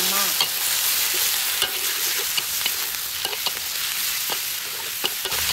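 Loud, steady oil sizzle with occasional scraping and clattering of a utensil stirring chicken and gizzards in a hot pan for Thai stir-fried basil.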